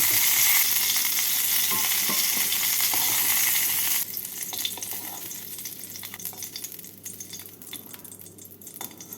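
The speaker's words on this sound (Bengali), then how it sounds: "ফুলকপিগুলো ভাজা হয়ে গেছে এবার ফুলকপিগুলোকে তুলে রাখছি" Cauliflower florets fry in an oil pan with a loud, steady sizzle that drops away partway through, leaving quieter crackles and a few light utensil clinks nearby.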